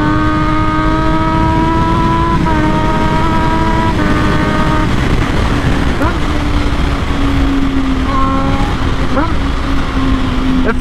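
A Triumph Daytona 675 motorcycle ridden at speed, its engine a steady loud drone that climbs through the gears with brief dips at each shift, wind noise rushing underneath throughout.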